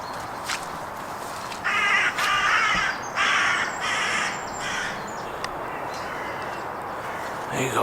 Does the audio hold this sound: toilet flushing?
no